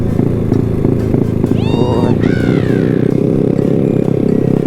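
A Honda Wave motorcycle rides up toward Phu Thap Boek, its exhaust and engine a steady, loud, low drone throughout, with a brief rising and falling high-pitched squeal partway through.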